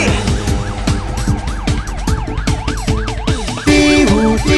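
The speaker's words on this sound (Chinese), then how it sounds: "嘀呜嘀呜嘀嘀呜呜，我是正义的超级警车" A cartoon police car siren in a children's animated song wails loudly, rising and falling over and over above a bouncy musical beat.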